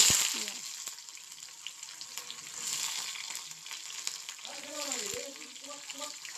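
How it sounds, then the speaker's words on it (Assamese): Dried chillies splutter and fry in hot oil in a pan, a quiet steady sizzle with small crackling pops, a couple of brief swells and a faint background hum under it. "ইপিনে শুকান জলকীয়াটো নেকি চিটকিল পূৰা খাইছে"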